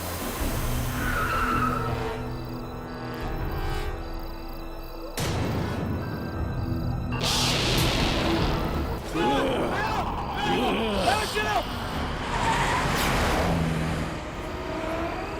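A car brakes hard, its tires squealing and skidding to a stop, set among engine noise and several voices talking throughout.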